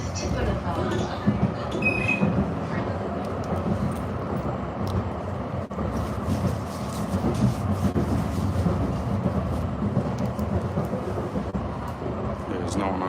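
A tram rolls along its rails with a continuous low rumble and rattling, steady throughout, while voices speak over the noise.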